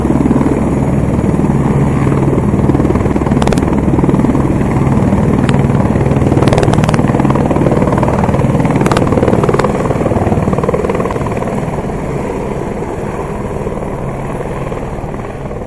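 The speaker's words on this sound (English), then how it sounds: "I was able to spot the Squirrel helicopter of the SAPS starting up and taking off to do its borderline patrols" A SAPS Squirrel police helicopter starts up and lifts off for a border patrol, its steady, loud rotor and turbine roar filling the whole stretch and easing slightly toward the end.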